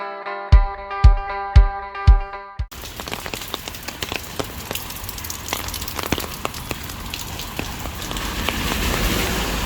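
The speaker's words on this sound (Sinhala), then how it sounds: "අද සිකුරාදා දවසක්නේ හොඳටම වහිනවාද" Heavy rain pours steadily on a Friday outside a budget biriyani buffet spot, a dense continuous wash of drops after a few sharp tonal chimes at the start, no voices over it.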